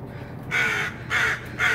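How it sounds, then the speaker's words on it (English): Three loud, harsh crow caws ring out in a row, fairly close, with brief pauses between them and no talking. "Oh, Crow just took one."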